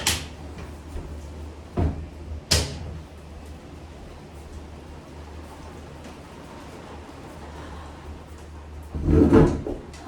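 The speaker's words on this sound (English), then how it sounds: "I needed to close the window because it was getting really noisy" A window is slid and shut indoors during a rainstorm, with a few sharp knocks and bumps of the frame against a soft background of rain, ending in a louder clatter as it closes.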